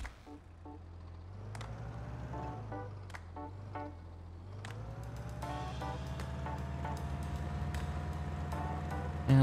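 A John Deere tractor in Pure Farming 2018 runs with a steady engine drone whose pitch shifts as it revs, broken by intermittent clicks and clanks, and rising slightly louder toward the end.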